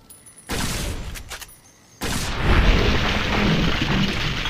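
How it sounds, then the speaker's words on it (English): Energy laser rifle fire in Fallout New Vegas, The Divide DLC, aimed at Deathclaws: a loud burst at half a second and a heavier, sustained blast from two seconds that rumbles on to the end. "It's like a shotgun rifle that shoots energy lasers."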